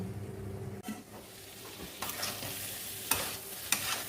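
Creamy soya chunks fry over low heat while being stirred in a pan, a soft sizzle under intermittent scraping and a few louder clacks of the spoon, quiet and close with no speech.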